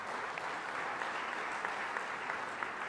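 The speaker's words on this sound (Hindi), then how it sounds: "अशोक ध्यानचंद जी का भी ताली बजा के स्वागत कीजिए।" An audience claps steadily and continuously at a sports honours ceremony in Bhopal, dense even applause with no talk over it.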